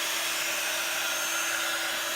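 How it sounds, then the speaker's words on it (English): An embossing heat tool blows hot air to heat-set embossing powder on a stamped card. It makes a loud, steady whirring rush that runs unbroken from start to end, with no other sounds. "So I am going to heat set this now, which is going to be noisy"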